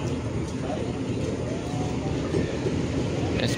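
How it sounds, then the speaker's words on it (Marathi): A train arriving at a station makes a steady, loud rail rumble that runs throughout, with faint voices in the background. "आत्ता ट्रेन आली 6:15 वाजता."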